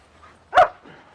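A German Shepherd lets out a single short, sharp bark, close and clear against a quiet background.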